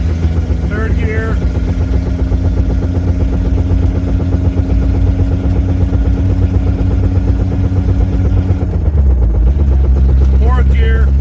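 A Toyota Tercel 4WD wagon with a 4A-C engine pulls in third gear, its engine droning loudly and steadily as it climbs in pitch, heard from inside the car with no talking.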